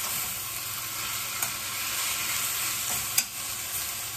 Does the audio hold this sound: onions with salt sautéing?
yes